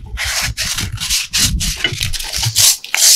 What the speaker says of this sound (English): I'm just gonna sand the inside here where some of this corrosion buildup still is.